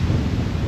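On a windy autumn day at the bank of a bass fishing spot, gusts buffet the microphone in a continuous low, rumbling roar throughout the short stretch.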